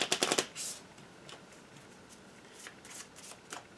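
A deck of hit location cards for the Kingdom Death Monster board game being shuffled by hand, a quick burst of crisp riffling followed by softer, scattered card flicks and taps, close and fairly quiet with no talking.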